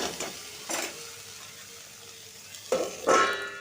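Pumpkin greens, aubergine and potatoes being stirred in a frying pan, with a few brief scraping strokes and a soft sizzle between them, loudest near the end.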